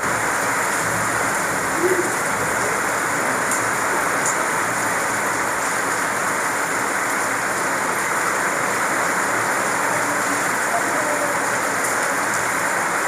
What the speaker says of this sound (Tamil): மழை வேறு பெய்யுதுல